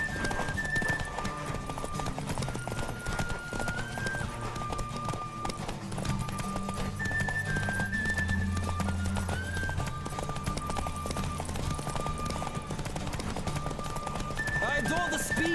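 Horse hooves clip-clopping at a steady gallop in The Witcher 3: Wild Hunt video game, rhythmic and continuous, layered under game music with occasional whinnies.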